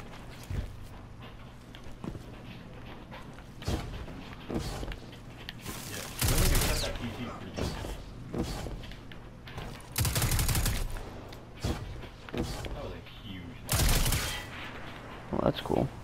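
Gunfire in the sci-fi shooter game Destiny 2, with repeated bursts of weapon fire and several loud blasts spread across the stretch over a busy game soundscape, while a person talks intermittently.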